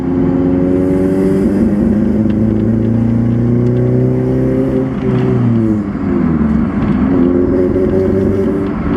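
A car engine on a test drive, its tone resembling a Subaru boxer, hums steadily and close with shifting harmonic pitch as it revs up and down, loud throughout with no talking.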